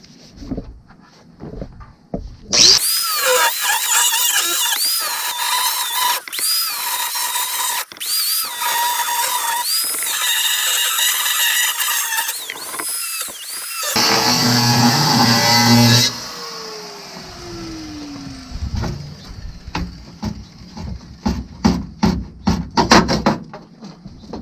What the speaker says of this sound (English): the first thing we want to do is cut these welds. So we're going to use this cutoff wheel, try to get them started.